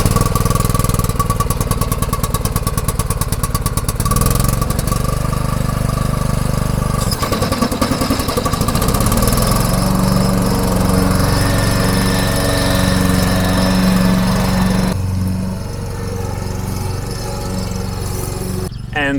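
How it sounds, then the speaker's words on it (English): Engine-driven lawn mower cutting grass in a spring permaculture garden near a forest cottage, a loud close continuous motor drone with rattling pulses that shifts in tone as it works, no voices. "And while Tommy is mowing the grass, I also have to do something"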